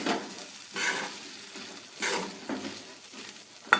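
Rice and peas sauté in a pan, the sizzle rising in bursts as a spoon stirs and scrapes, with soft clatter between strokes.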